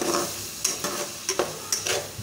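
Peas and spices with black cardamom, salt and chili sizzle in a pan while a spoon scrapes and stirs them in several sharp strokes over a steady frying crackle.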